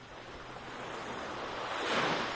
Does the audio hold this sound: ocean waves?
yes